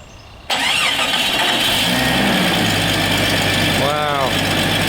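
Jeep Cherokee with a 4.0 engine cranks and fires after a quiet start, then settles into a steady, close idle with a slight exhaust leak; a brief whirring sweep appears near the end.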